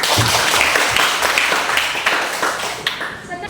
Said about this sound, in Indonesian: Tepuk tangan kalau begitu